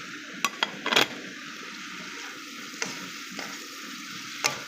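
Scrambled egg sizzling in a pan with glass noodles for Chinese-style sotanghon, a steady soft frying hiss broken by a few sharp clicks of a utensil against the pan.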